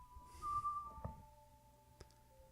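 A short whistled ocarina tune from The Legend of Zelda: Ocarina of Time sounds faintly in a few sustained notes, followed by soft game sound effects.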